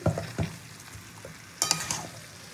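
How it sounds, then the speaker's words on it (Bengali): Chicken pieces, cut large and cooked without turmeric for a biryani, are stirred in a hot pan, giving a few scraping stir strokes over a steady low sizzle, close and fairly loud with no talking. "চিকেনটা ভালো করে নাড়াচাড়া দিয়ে"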